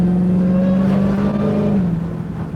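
A Dodge Durango SRT engine holds a loud, steady cold-start idle, a deep droning note that dips slightly near the end, heard up close with no talking.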